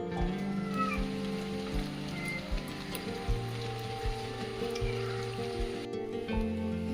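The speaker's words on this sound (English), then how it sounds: "Because of cyclone, it's been raining all day here" Steady rain falls all day during a cyclone over a village garden, a dense continuous patter and wash of drops that holds at an even level throughout, with a few brief clicks and knocks rising above it.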